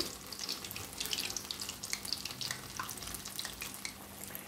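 Punugulu fritters made from dosa batter, Kadapa style, frying in hot oil: a steady, soft, crackling sizzle with a fine bubbling texture that runs throughout, fairly faint, with no talking.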